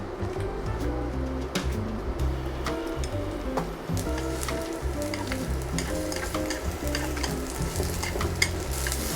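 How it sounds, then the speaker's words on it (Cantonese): Ginger, scallion and garlic stir-fried in a little oil in a wok, a steady close sizzle broken by repeated scraping and stirring clinks from a spatula, with no talking. "咁咧就落啲薑葱、蒜，"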